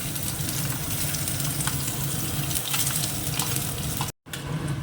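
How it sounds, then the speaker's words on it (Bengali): Garlic and dried red chillies fry in hot oil with a dense, continuous sizzle and crackle, close and fairly loud, broken by one brief dropout near the end. "এই যে রসুনটাও ভাজা হয়ে গেছে"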